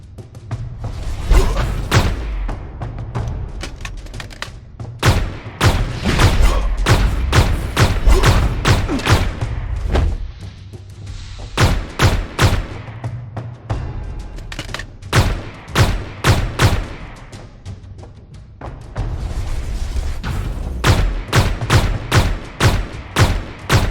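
Gunfire in the VR roguelite shooter Chrono Hunter, with rapid loud bursts of sharp shots coming in clustered volleys with short pauses between them, close and dominant with no speech.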